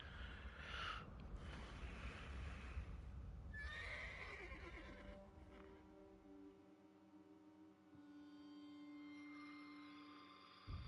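A horse whinnies loudly over a busy soundscape in The Elder Scrolls Online, followed by hoofbeats, then calm sustained music tones take over.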